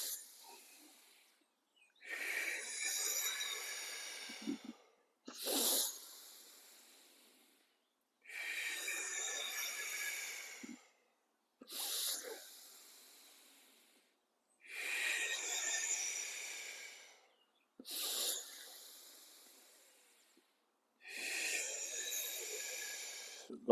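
Deep, slow breaths during a group breathing exercise, eight long airy inhale-exhale bursts with short silent pauses between them, close and fairly soft, with no talking.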